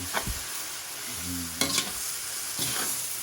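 Baguio beans are stirred in a hot pan at a Filipino street-food stall, with a soft sizzle and three distinct scraping strokes of the spatula, close and clear.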